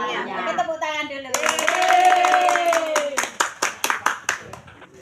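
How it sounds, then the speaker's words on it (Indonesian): Children's voices sing a drawn-out phrase, then about nine or ten sharp, evenly spaced hand claps ring out close and clear toward the end. "Oke, tepuk tangan dulu."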